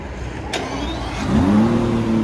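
A click, then an Aston Martin DB11 V12 cranks on a cold start and catches, rising into a loud, rumbling revved idle close by.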